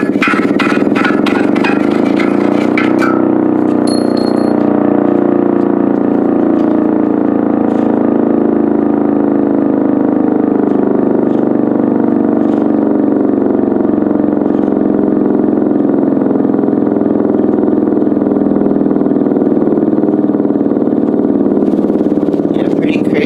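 A mechanical siren with a 22-inch rotor spins up, giving a loud, sustained, wavering howl with layered harmonic tones that shift in pitch over the full stretch.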